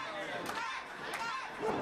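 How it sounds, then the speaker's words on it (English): Wrestling crowd cheering for Gus Money at a ring show, a faint, diffuse roar of many voices with a few sharper shouts, steady and distant throughout. "You're gonna hear the crowd behind Gus Money here."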